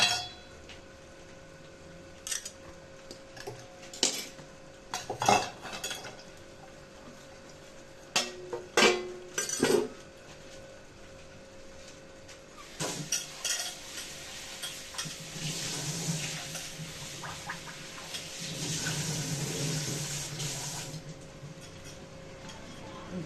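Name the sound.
onions frying in hot oil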